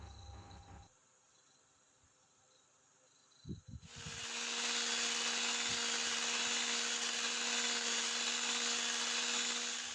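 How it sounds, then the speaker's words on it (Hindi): An electric beater whipping cream with condensed milk for mango ice cream: after a quiet lead-in and a few clunks, the mixer whirs up to a loud, steady high-pitched drone that holds to the end. "अब कंडेंस मिल्क डालकर मज़ीद 1 मिनट बीट करेंगे।"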